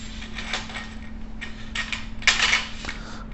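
Screws are turned by hand to fasten the tripod legs of a Levenhuk Blitz 70AZ telescope, producing close, intermittent scraping and ratcheting metal-and-plastic clicks in short bursts over a faint steady hum, with no talking.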